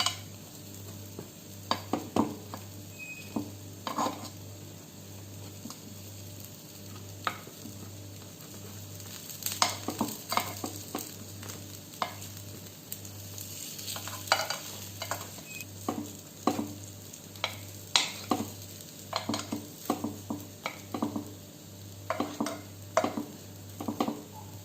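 Appe batter fries in an appe pan while the pieces are turned, giving a continuous oily sizzle broken by many quick metallic scrapes and taps as each one is flipped, close and without voices.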